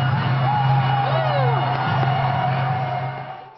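A large crowd of runners and spectators at the 105th annual Thanksgiving Day road race in Cincinnati, a steady loud roar of voices with whoops and shouts rising above it, easing off slightly at the end.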